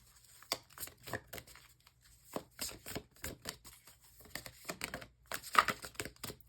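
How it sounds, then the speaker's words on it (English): Tarot cards being shuffled by hand, loosely and sloppily, in soft irregular bursts of riffling and sliding with brief quiet gaps between them, close and fairly quiet, with no talking. "I'm like shuffling this so sloppily."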